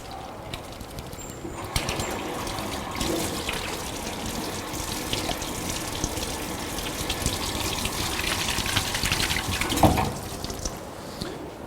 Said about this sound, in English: So I'm just going to wash up